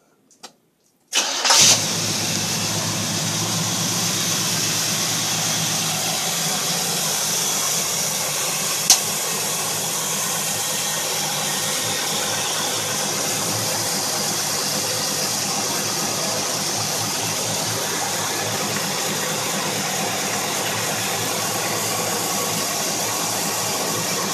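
A Chevy Nova engine with timing set too high cranks and catches after a couple of seconds, then settles into a loud, continuous idle with an uneven, rough tone.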